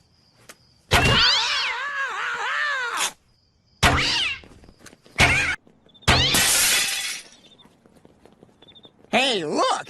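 Cartoon cats yowl and screech in loud, separate bursts as a cat launcher fires them, with crashing, shattering impacts between the cries and sharp, warbling meows near the end.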